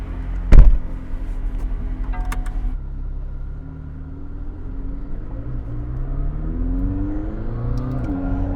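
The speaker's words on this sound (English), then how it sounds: "click the engine start button, and listen to that V8 come to life" A McLaren 600LT's V8 fires up with a sharp, loud bark, settles into a deep, steady idle rumble, then climbs in pitch as the revs build toward the end, close and without talk.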